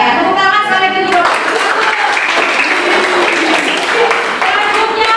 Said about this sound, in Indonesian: Ya, tepuk tangan sekali lagi dulu.